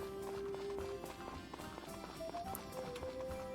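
A horse's hooves clop in a quick trotting rhythm in Story of Seasons: Friends of Mineral Town, moderately close, over a soft background tune with occasional brief tones.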